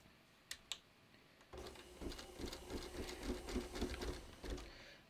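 An embroidery machine stitches a basting outline around the design area in the hoop, a steady rapid mechanical whirring and clatter that starts after a couple of faint clicks and runs continuously.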